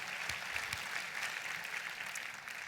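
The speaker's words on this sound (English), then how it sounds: "Let's give these people a big round of applause." Audience applause during a motivational talk, a steady, fairly faint wash of clapping from a crowd that continues evenly throughout.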